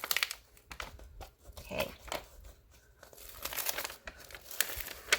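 Protective film is peeled off a diamond painting canvas, giving a close, irregular run of crinkles and soft tearing rustles with short pauses. One brief word is spoken.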